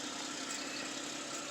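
A 2011 Chevrolet Camaro LS engine runs after an oil change and fuel and intake system service, a faint, steady hum with an even low rumble and no talking.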